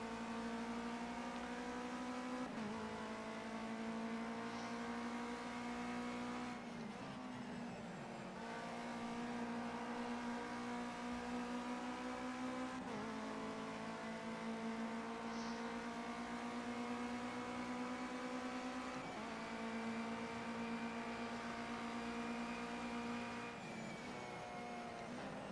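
Ginetta Junior race car engine in Project Cars 2 on a snowy track: a steady, loud, high-pitched engine drone held alone throughout, with the revs dipping and climbing again at a few gear changes.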